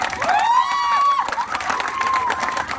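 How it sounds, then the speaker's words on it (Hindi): An audience at a World Theatre Day stage event in India responds with applause and cheering after a ceremonial lamp is lit, loud crowd noise with whistles and shouts rising over steady clapping throughout. "एक बार जोरदार ताली।"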